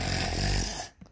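Snoring from a sleeping character in the Roblox game Brookhaven, a loud rasping snore filling most of a short moment before cutting off abruptly.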